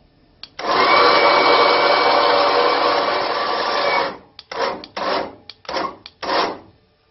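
A rear-mounted electric winch, newly installed and worked by remote control, whirs loudly and steadily for about three seconds. It then runs in several short, choppy bursts with brief pauses between them.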